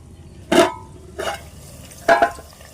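Country chicken curry with salt and chili is stirred in a pot, giving three separate scraping strokes of a spoon against the metal, close and fairly loud with quiet pauses between.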